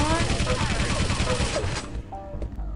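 Machine gun fire in the arena shooter Quake III Arena, a loud sustained burst of rapid shots that cuts off near the end, leaving a few scattered game sounds.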